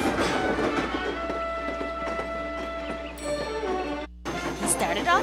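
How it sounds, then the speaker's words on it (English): A steam train sound effect plays, with steady chugging and clickety-clack rolling over a constant low rumble and sustained whistle-like tones. It stops abruptly near the end and then resumes. "soon he was driving his train down the track, chug-a-chug-chug and a clickety-clack"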